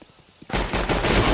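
Sudden burst of rapid automatic gunfire in Counter-Strike on the Cache map, a pro match between Astralis and SK at a LAN semi-final, loud and sustained after a quiet start with no talk.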